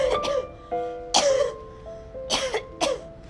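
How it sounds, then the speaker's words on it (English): A person coughs in several short, harsh bursts at close range, with gaps between them and no other sound around. "That cough doesn't sound good."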